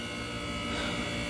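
An HVAC unit at a pool house hums with its compressor running while the fan stays off, suspected bad capacitor, giving a steady close electrical buzz that holds evenly throughout with no voices.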